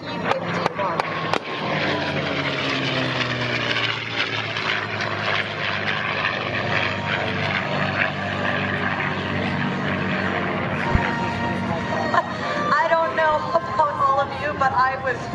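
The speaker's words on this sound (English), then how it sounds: "In our red tail, the P-51." A P-51 Mustang red tail World War II warplane flies past at an airshow, its propeller engine a loud sustained drone that rises and shifts in pitch as it passes, with an announcer talking over it.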